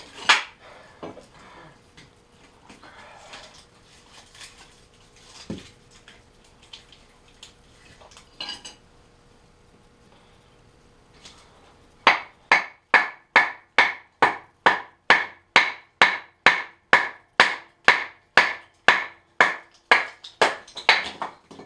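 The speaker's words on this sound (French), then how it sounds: "on a fendu du bois" A knife is batoned through hardwood to split it. Scattered taps give way to a long run of loud, evenly spaced wooden strikes, about two per second, close and with no talk.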